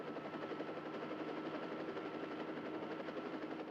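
A helicopter flies steadily overhead, its rotor and engine producing a continuous, even roar that holds at constant loudness throughout, with no voices over it.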